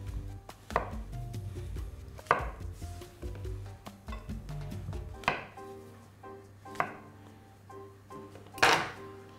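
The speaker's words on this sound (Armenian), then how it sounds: "Սունկը շատ մանր չեն կտրատելու" A knife chops mushrooms on a cutting board in a home kitchen, a series of sharp, close knocks in an uneven rhythm with no talking.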